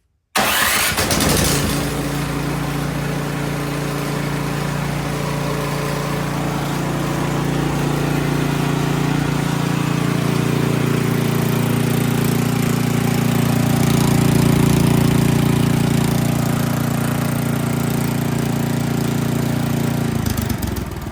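Ariens Deluxe 28 snow blower engine cranks and catches with no choke, then settles into a steady, loud idle that holds throughout with a slight swell near the end.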